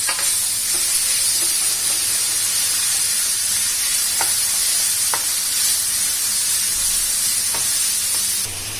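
Snake gourd vegetable fries in a hot pan, a loud continuous sizzle and hiss with occasional sharp scrapes and taps as it is stirred, no voices.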